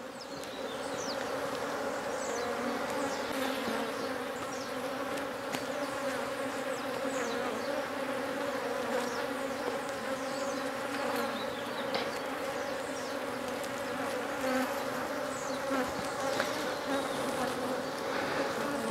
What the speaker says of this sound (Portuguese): Vocês estão observando que isso aqui é uma colmeia adulta.